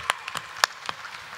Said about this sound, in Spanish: Un aplauso fuerte para Wanda